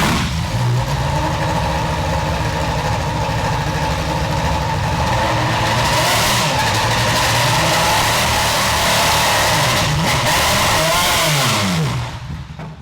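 A Highcroft Racing HPD ARX race car engine runs on a dyno steadily at high revs for several seconds, a sustained roar with shifting tone, dropping off at the end.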